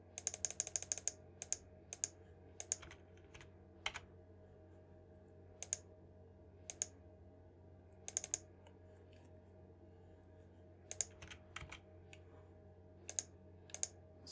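Arrow keys tapped on a computer keyboard while editing in Vegas Pro, sharp isolated clicks, first a quick burst of several presses and then single taps spaced a second or more apart, over a quiet room hum.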